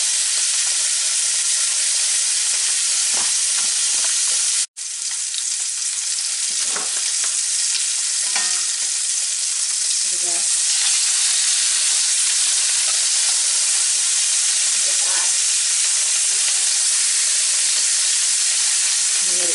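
Beef short ribs searing in a hot pan, a steady loud sizzle and hiss of fat that holds throughout with one brief break, close up.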